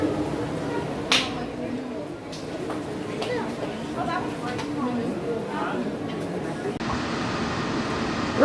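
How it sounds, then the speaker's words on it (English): Interior of a Walt Disney World Magic Kingdom monorail (Monorail Silver) on the move, a steady rolling rumble with faint clicks and murmured chatter from riders nearby. "Right now I'm on Monorail Silver."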